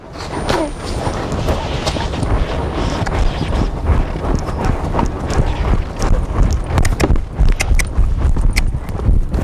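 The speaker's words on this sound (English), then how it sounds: "go around the arena and see if you can get the skip into a canter" A Morgan horse working in an arena, its hooves drumming the ground in a loose rhythmic clip-clop at moderate distance, with scattered thumps and ambient noise over a steady rumble.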